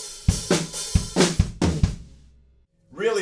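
A drum fill on a kit moves down onto the toms: about half a dozen punchy hits in quick succession ring out and fade to near silence, then a voice speaks briefly at the end.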